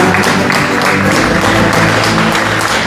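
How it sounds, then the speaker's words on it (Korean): Loud, dense audience applause at an art festival joint declaration event as the culture minister comes on stage, a continuous wash of clapping close and full throughout. "큰 박수 부탁드립니다."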